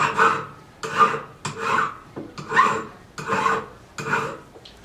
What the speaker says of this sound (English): working on some candlesticks right now, filing the rough, jagged edges